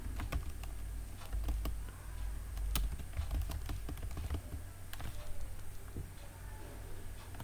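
Keys clatter as a command is typed on a computer keyboard, a quick, uneven run of close taps over a low hum.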